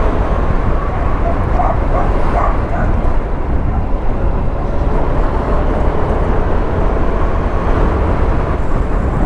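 A dog barks a few times in the distance over a steady motorcycle engine rumble and road noise on a rough, bumpy road.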